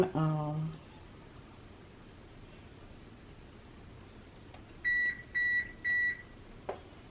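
A kitchen oven beeps three short, evenly spaced times near the end, clear against quiet room tone during crab toast preparation; a brief sound opens the clip.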